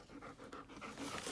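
A dog pants quietly with quick, rhythmic breaths that grow slightly louder toward the end, close by and with no talking.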